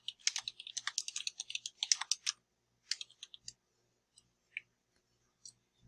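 Typing on a computer keyboard: a quick, dense burst of soft key clicks for about two seconds, then a shorter flurry and a few scattered taps, quiet and close, with no talk.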